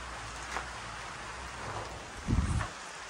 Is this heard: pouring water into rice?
no